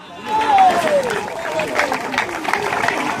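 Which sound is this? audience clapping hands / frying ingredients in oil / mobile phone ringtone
audience clapping hands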